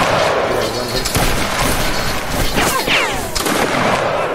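Volleys of musket fire crack through a Napoleonic line battle video game, several sharp gunshots scattered over a dense battlefield din, with voices talking throughout.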